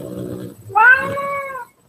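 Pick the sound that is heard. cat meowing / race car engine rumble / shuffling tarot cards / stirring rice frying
cat meowing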